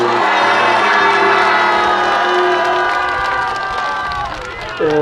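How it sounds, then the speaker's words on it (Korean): A political rally crowd in Korea loudly cheers, shouts and applauds without a break, a dense roar of many voices with whoops rising and falling and then easing slightly near the end. "우리 박근혜 대통령님을 위해서 박수 한번 보내주시기 바랍니다"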